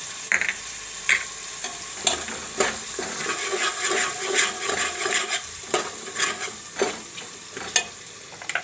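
Ground spice powder sizzling in hot oil for a green val bean curry, a steady crackling hiss broken by frequent scraping stirs and soft clatters close by, with no voices.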